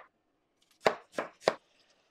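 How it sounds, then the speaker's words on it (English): A knife chopping vegetables for a braised beef base, likely onion, celery and garlic, with three firm, evenly spaced cuts against a board, close and clear in an otherwise quiet kitchen. "Cut all our vegetables."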